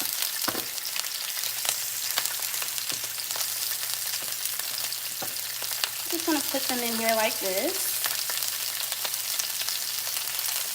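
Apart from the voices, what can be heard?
meatballs sizzling in a pan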